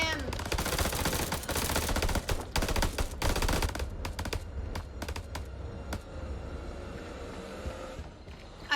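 Bursts of machine-gun and rifle fire crackle through a House of Ashes firefight, dense and loud for the first four seconds, then thinning to scattered sharp shots over a low rumbling backdrop.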